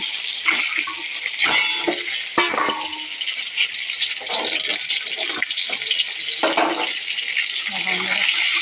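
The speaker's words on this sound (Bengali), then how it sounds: "ডিমগুলো ভেজে নিচ্ছি" Eggs frying in a pan in a home kitchen, a bright steady sizzle with occasional scraping and stirring clinks of a utensil against the pan.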